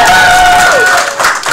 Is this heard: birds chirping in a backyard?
no